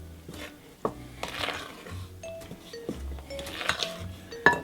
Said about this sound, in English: Then we're just going to gently mix that in.